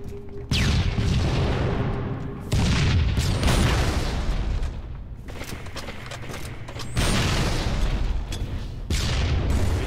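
Rocket explosions in Halo 3 multiplayer team slayer, several loud, heavy booms in quick succession, each a broad blast with a rumbling tail, landing close by over continuous game noise.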